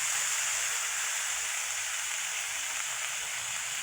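Coriander and mint leaves sautéing in hot oil for a mint-coriander pickle give a steady, even hiss that runs unbroken throughout, close and moderately loud, with no talking.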